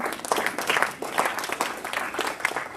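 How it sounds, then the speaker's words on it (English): Audience members at a Rotary club meeting applaud the runner-up, with a brisk, fairly close burst of clapping of steady density that carries through the whole short stretch. "Big round of applause for our runner-up"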